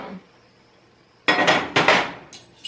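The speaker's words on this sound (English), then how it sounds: "we are going to cut up the sausage" Knife strokes cut sausage against a metal pan, a few sharp scraping clatters after a quiet pause, close and fairly loud with no talk.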